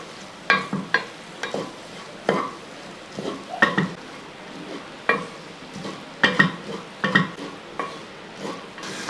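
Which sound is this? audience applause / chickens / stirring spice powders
stirring spice powders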